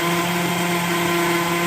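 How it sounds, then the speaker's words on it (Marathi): A mixer grinder runs continuously, whirring loudly and steadily as it grinds garlic and ginger. A strong motor hum with a bright, constant whine holds throughout, with no talking. "हे मिक्सरचं काम संपलंय."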